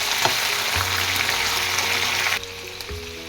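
Chopped vegetables for sambhar fry in a hot pan after softened onions, giving a loud, steady sizzle that drops slightly partway through, with brief scrapes of stirring.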